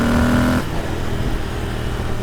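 A Royal Enfield Interceptor 650 motorcycle on the move, a steady engine drone with a brief higher tonal note at the start before settling into a continuous rumbling road sound, loud and close, with no talking.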